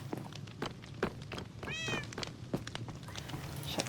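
A cat meows once in a Minecraft game, a short rising-falling call standing out over a soft background of game sounds and light thumps.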